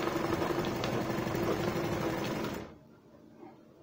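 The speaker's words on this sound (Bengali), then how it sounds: "সবগুলোকে এবার আমরা ডবল সেলাই দিয়ে নেব।" A sewing machine double-stitches gown fabric in a steady, close mechanical whir for about two and a half seconds, then stops abruptly into near silence.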